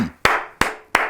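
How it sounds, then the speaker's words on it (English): Three sharp, loud hand claps in a steady rhythm, close up, each followed by a short ringing decay, with a brief trace of voice at the start. "Clap for the man."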